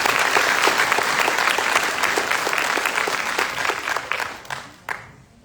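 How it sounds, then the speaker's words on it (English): A graduation ceremony audience applauds the drill sergeant leader of the cycle. The dense clapping stays steady at first, then thins out and fades to a few scattered claps. "Please join me in a round of applause for the Drill Sergeant Leader of the Cycle."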